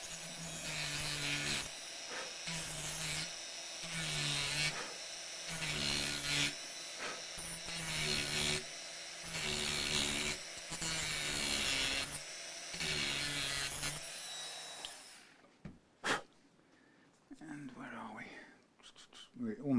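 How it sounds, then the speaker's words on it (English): A Dremel rotary tool cuts down into a glued wooden joint on a Hamer double-cut guitar, grinding in steady, pulsing strokes for about fifteen seconds before going quiet, followed by faint handling noises. "I'll carry on down a bit with the Dremel just to get to the very bottom."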